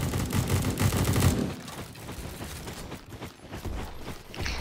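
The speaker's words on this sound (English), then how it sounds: "Someone was shooting at something." Rapid gunfire bursts in the online shooter game Bad Business, loud and dense for the first second and a half, then scattered shots and mechanical clatter at a lower level.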